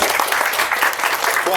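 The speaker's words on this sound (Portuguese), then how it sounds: "palmas para ele" Applause from an audience at a RetroRio 2019 talk session welcoming a speaker, a loud, continuous patter of many hands clapping close by.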